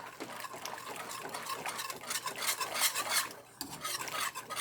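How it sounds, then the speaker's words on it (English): Creamy maize pudding with cashews and raisins is stirred in a pan over medium heat: continuous thick, wet scraping and swirling strokes of a utensil close by, with occasional light clinks, no voices. "So keep stirring to prevent burning at the bottom part"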